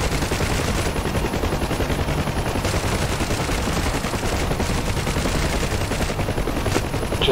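Relentless, rapid machine gun fire from helicopters in a flight simulator video game rattles on without a break, dense and loud, with a faint whirring hum beneath it.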